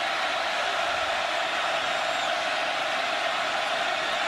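A college football stadium crowd at Baylor versus Oklahoma on a fourth down roars loud and continuous, a dense wash of many voices that holds steady throughout.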